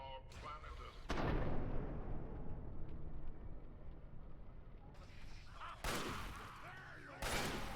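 Grenade blasts and heavy gunfire in Fallout 3 combat give a sustained booming, crackling roar with several sharp loud bursts, loud and close throughout.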